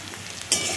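Potatoes hitting a hot pan while cooking an egg curry: a quiet room, then a sudden bright sizzle bursts in and continues steadily, close and fairly loud.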